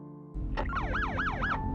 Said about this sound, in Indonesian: Mendengar suara sirine yang dibunyikan